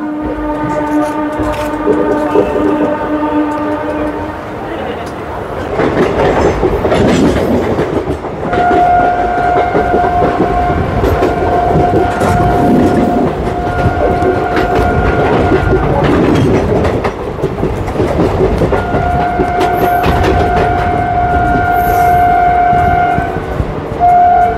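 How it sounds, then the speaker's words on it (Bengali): Passenger train rolling out of Santragachi station on the route from Howrah toward Digha, a steady loud rumble with clickety-clack and several long horn blasts over the running noise. "আমাদের ট্রেন সাঁতরাগাছি স্টেশনের 3 নম্বর প্ল্যাটফর্ম থেকে ছেড়ে দিল আমাদের গন্তব্যের"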